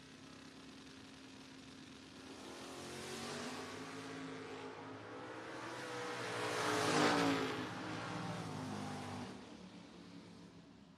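Camaro race car accelerating down a drag strip, a distant engine roar that swells and fades over several seconds, with a broad roar peaking midway, no talk.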